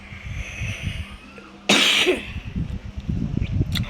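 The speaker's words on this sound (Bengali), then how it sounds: "কাশলাম না বলে কাশি দিয়া ফেললাম গাইস" A single sharp, loud cough bursts out close to the microphone against a quiet indoor background, followed by softer breathy throat sounds.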